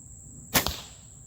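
An arrow loosed from a bow whose small string is broken gives a quick, sharp whip-like snap followed by a faint second thud, heard over a steady high-pitched background hum.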